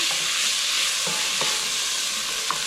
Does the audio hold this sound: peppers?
yes